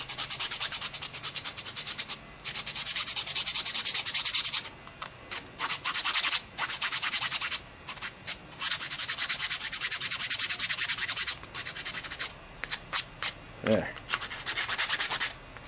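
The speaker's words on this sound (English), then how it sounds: "Okay, so just keep sanding." Hand sanding of a wooden fingerboard, a steady run of loud, close scratchy rubbing strokes with brief pauses between passes; a single short spoken word comes near the end.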